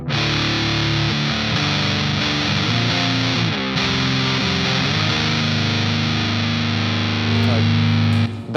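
An EarthQuaker Devices Hoof Reaper fuzz pedal on its Hoof channel, Big Muff style, turns a guitar into a thick, saturated wall of sustained chords, loud and continuous with changing chord shifts and no talking.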